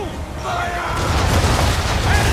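Ship cannons fire in an Assassin's Creed III naval battle, booming in heavy, rumbling volleys at close range, with battle noise and shouting voices mixed in.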